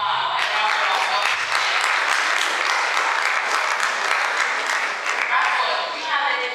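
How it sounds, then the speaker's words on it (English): Round of applause from the audience at a health week quiz competition, a loud sustained wash of many hands clapping that holds steady for several seconds before easing slightly near the end. "Wow, a round of applause."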